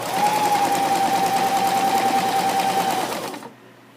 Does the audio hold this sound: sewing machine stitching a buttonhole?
yes